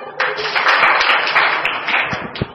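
Schoolchildren in a Hindi class clap their hands together in a short burst of dense, close clapping that rises quickly and fades within a couple of seconds, with faint voices underneath.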